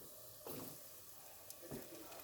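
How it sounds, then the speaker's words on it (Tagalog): Ham and mozzarella bread frying in hot oil gives a faint, steady sizzle with a couple of brief louder crackles as pieces settle. "Nagpainit muna ako ng mantika kabayan para iprito natin."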